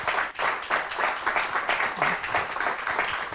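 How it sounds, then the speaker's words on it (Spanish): Applause from the audience at an aerial survey industry talk, steady dense clapping from a crowd that holds evenly throughout. "demos un fuerte aplauso porque ha estado muy bien"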